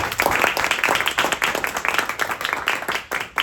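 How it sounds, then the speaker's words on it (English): A small audience applauds for Sandra, hands clapping in a quick, uneven patter of distinct claps, close and fairly loud for the whole stretch with no voices over it. "Let's give Sandra a round of applause on that one."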